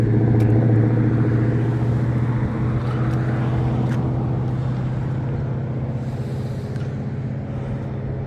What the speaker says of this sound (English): A muscle car passing by.